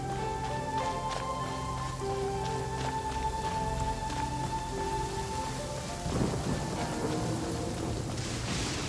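Steady rain pours with rumbling thunder in the Genshin Impact game world, the downpour constant throughout and a heavier thunder roll swelling near the end, with no voices.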